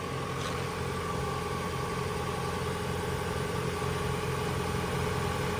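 A 2024 Toyota Prius Prime running steadily after an oil change, a continuous low engine hum with a faint mechanical whine, close by and unbroken for several seconds, with no talking.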